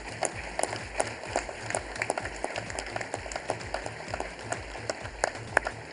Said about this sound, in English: Please, ladies and gentlemen, with a huge round of applause,